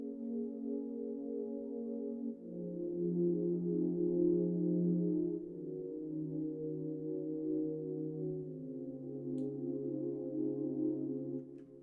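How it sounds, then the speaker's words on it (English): A soft string-section pad built in FL Studio sustains a slow chord progression, each chord held for a couple of seconds and gliding into the next, quiet and smooth with no percussion or voices. "all I did was just copy those bass notes, or those root chords, should I say, all the chords from the piano, and I just put it in the strings"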